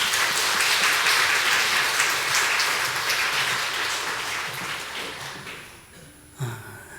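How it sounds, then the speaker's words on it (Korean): Church audience applause welcoming missionary speakers, a full, sustained clapping that gradually thins and fades out near the end, followed by a brief thump. "우리 나오실 때 박수로 환영하도록 하겠습니다."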